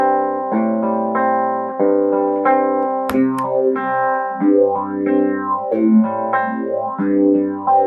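Electric guitar chords run through an EHX Small Stone Nano phaser with the colour switch up, strummed in a progression with a swirling, sweeping phase effect, one sharp percussive hit midway, loud and close without talking.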